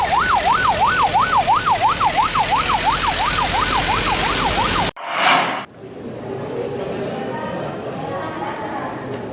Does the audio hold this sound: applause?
no